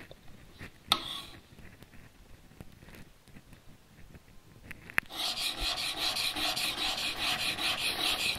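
A chisel is sharpened on a 600-grit diamond stone. Scattered light scrapes and taps come first, then a steady run of close, rhythmic rasping strokes back and forth.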